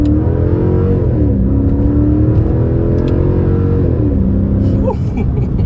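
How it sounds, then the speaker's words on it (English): A Mercedes C55 AMG engine hums loud and close, rising and dropping in pitch as revs change through gear shifts, with a few faint crackles near the end; no talking. "on downshifts, when you got some heat going, you'll hear a little bit of kind of cracks and pops"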